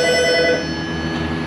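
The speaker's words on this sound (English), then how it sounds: "sometimes the phone rings" Inside an auto repair shop a telephone rings loudly and steadily, its electronic tone filling the space without any talk over it.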